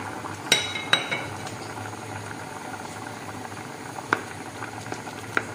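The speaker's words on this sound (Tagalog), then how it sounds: "At kumukulo na po yung ating pinakuluang kalabasa" Squash boils softly and continuously in a covered pot, with a few sharp metallic clinks scattered over it, close by and with no talking.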